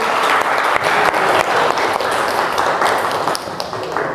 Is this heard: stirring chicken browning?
no